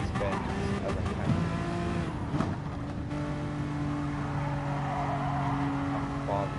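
Race car engine in Gran Turismo Sport held at high RPM through a series of bends, its steady whine rising and falling with throttle shifts and brief tire squeals, heard close and continuous.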